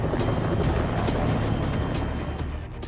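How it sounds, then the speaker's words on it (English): Helicopter flying nearby, a steady broadband rotor and engine roar holding loud throughout before easing slightly at the end, with no talk over it. "This chopper appears out of nowhere."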